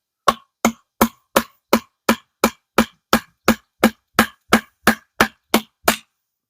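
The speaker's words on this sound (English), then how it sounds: "Guess I can't hammer through with a stick," A knife blade is hammered with a stick through wood while testing the Fobos Knives Alaris camp blade: sixteen sharp, evenly spaced wooden knocks in a steady rhythm, loud and close, with no talk.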